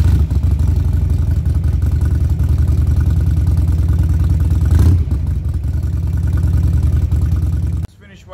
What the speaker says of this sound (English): So we're gonna turn it on and the bike should start right up.